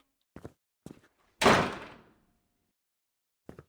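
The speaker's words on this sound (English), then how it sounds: "Sounds like somebody shut the door." A door shuts with a single loud thud in a horror video game, preceded by a couple of faint knocks or footsteps and followed by a quiet tap, with no talking.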